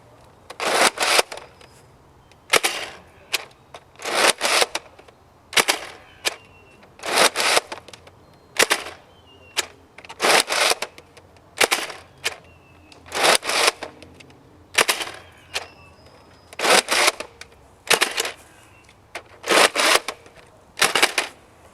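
A Nerf N-Strike Elite Mega Centurion blaster fires darts outdoors in a flat shooting range test: about a dozen separate bursts of clacking mechanism and a firing thump, each followed by a pause, close and fairly loud.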